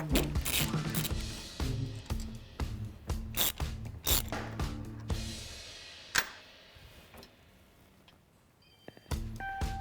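A 1/4-inch Allen wrench works loose the master cylinder on a Harley-Davidson bagger, with close metallic clicks, ratcheting taps and handling clatter that fade to quiet before a few final light ticks.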